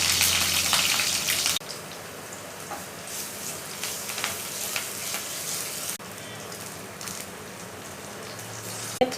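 Onions fry in a pan of hot oil with coriander seeds, cardamom and cloves for fish curry, a loud close sizzle at first that drops to a steady hiss with crackles and occasional stirring, no voices.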